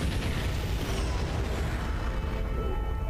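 A loud, sustained rumbling explosion in the Underverse animation fills the whole stretch as a dense, continuous roar that fades slightly toward the end.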